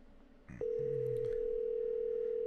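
A telephone line tone comes through on a call back, a steady unbroken tone held loud and close after a short burst of line noise at the start.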